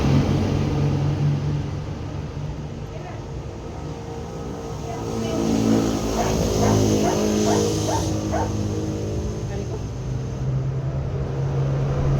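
A dog barks and yips in a few short bursts mid-way, over a steady background hum and faint voices.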